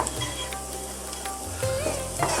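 Mutton samosa filling spiced with turmeric, coriander, chili and cumin fries in a pan, a continuous close sizzle with occasional stirring scrapes and no talking.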